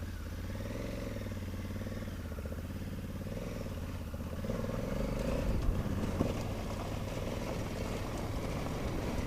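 A 2020 Honda Africa Twin CRF1100L adventure motorcycle on road-based tyres climbs a pebbly off-road trail, its engine droning steadily close by and rising in pitch and loudness partway through, with faint gravel clatter beneath.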